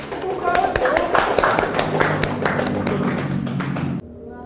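Students in a vocational school classroom clap for a group returning to their seats, a dense burst of hand claps and taps with some thumps, ending abruptly, while voices talk over it.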